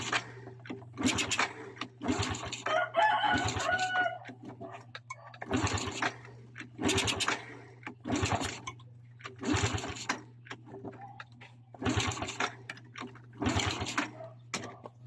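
A Honda XRM 110 motorcycle engine runs rough, missing and cutting out, with a low steady hum broken by rhythmic bursts of clattering pulses about once a second, heard nearby with no talking.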